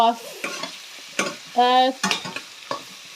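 Garlic fries in a pan with grated ginger, with stirring scrapes and clinks over a short, fairly loud sizzle.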